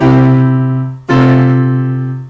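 Two loud, sustained piano chords forming a neighbor six-four progression, the second entering just as the first fades, each ringing fully with slow decay; no speech.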